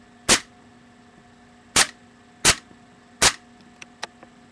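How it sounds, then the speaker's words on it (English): An airsoft Beretta M93R pistol fires four single shots indoors, sharp close cracks spaced about a second apart, followed by a few faint clicks of handling. "I'm gonna put it on 1 round. Extremely fast."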